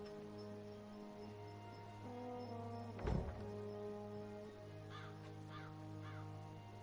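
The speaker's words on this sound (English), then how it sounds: "The magical bird is making a mockery of us." A magical talking bird in the video game Dreamfall Chapters caws in a few repeated calls near the end, over a steady droning game soundtrack with one brief thump partway through.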